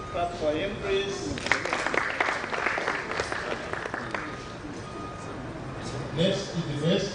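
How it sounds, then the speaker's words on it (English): Sustained audience applause at a prize giving ceremony as the best student in BSc Agriculture General is called up, a steady broadband clatter of many hands with a voice speaking over it. "Clap for him, please."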